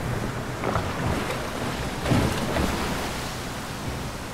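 Steady ocean wash and wind with creaking wooden boat noises in the Brothers: A Tale of Two Sons remake, a broad, even roar with a couple of swelling waves.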